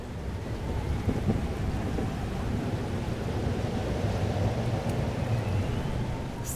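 Steady heavy rain hisses through a thunderstorm scene in the Life is Strange Double Exposure video game, with a low rumble of thunder underneath and no speech.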